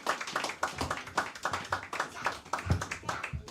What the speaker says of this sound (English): get his brother a hand clap real quick